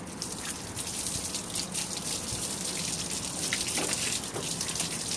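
Water pours steadily from a hose or bucket across a dusty terrace, making a continuous splashing gush with a few faint drips over it.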